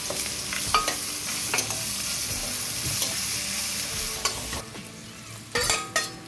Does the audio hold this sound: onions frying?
yes